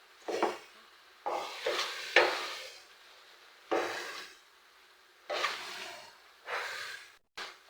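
Pesto stirred around a pan in several separate bursts of scraping and gentle sizzling, close and fairly loud, with quiet pauses in between.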